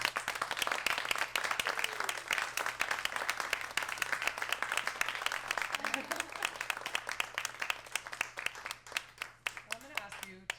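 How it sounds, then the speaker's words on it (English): Close, crisp applause from a small bookstore audience after a poetry reading, with individual claps sharply distinct in a steady patter that lasts about ten seconds before thinning out, and faint voices mixed in near the end. "Give another round of applause for Major Jackson"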